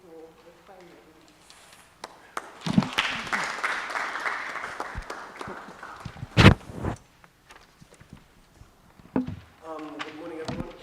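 Small audience at an indoor media engagement forum gives brief applause of scattered claps that swell over a few seconds and then fade, with talk before and after.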